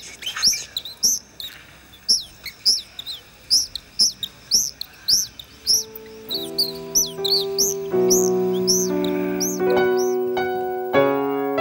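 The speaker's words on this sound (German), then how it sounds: "Hör zu, das ist die Nachtigall." A nightingale sings in repeated bright, rising chirps and whistled phrases, clear and close; partway through, a sustained tonal musical sound swells in beneath the song.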